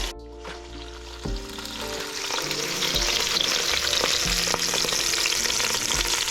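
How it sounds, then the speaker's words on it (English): Loud, steady sizzling and crackling of a fish head frying in hot oil, with occasional stirring clatter and spatters, close up and continuous. "we have to fry this one until the fish head is properly cooked from inside."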